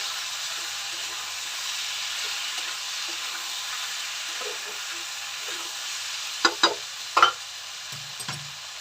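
Mixed vegetables frying lightly in a pan for a fish-head shukto, a faint steady sizzle near the pan, then a few sharp clinks and scrapes of utensils toward the end.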